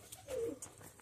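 A pigeon coos once, a soft low call heard faint and close over a noisy outdoor background.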